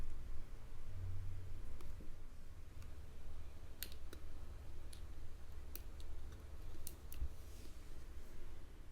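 Small, faint plastic clicks come from handling budget Cigman CNV01 4K night vision binoculars while powering them off and inserting a memory card. Scattered single ticks sound over a steady low background hum.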